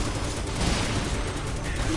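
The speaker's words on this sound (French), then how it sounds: "Attention au laser." Laser and gunfire from a gyro gunner enemy in the Final Fantasy VII Remake video game, a dense, continuous burst of blasts filling the whole short stretch at close, loud level.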